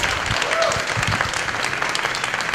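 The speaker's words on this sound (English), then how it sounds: "Let's give him a big round of applause." A comedy club audience gives a big round of applause for a performer, a dense, steady clatter of many hands close by, with some voices mixed in.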